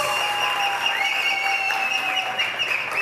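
Audience applause at a televised singing competition finale in Pakistan, a dense, steady clapping that continues for a few seconds alongside sustained music tones.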